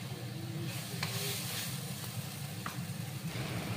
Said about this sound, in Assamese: দি এইখিনি অকণমান ভাজা যোৱালৈ লৰাই থাকিম। যেতিয়ালৈ তেল ওপঙি নুঠে তেতিয়ালৈ মই এইখিনি ভাজি থাকিম।